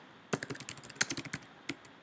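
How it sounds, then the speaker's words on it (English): Quick, close key taps on a computer keyboard come in a short burst of about a dozen strokes, then a brief pause and a couple more taps. The room is otherwise quiet. "I can just type my text"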